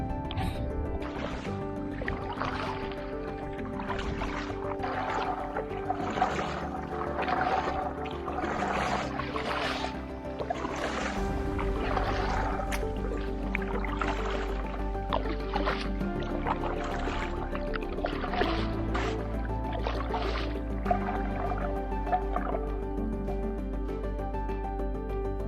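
Paddle board strokes on open water, soft rhythmic splashes and drips repeating steadily over a constant low hum, moderately close and fairly quiet.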